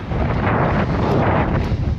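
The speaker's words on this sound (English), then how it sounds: "So right now it's insanely windy, going right into a monster headwind" Strong headwind roars and buffets against the microphone in a steady, loud rush while cycling in Canada, with no other sounds.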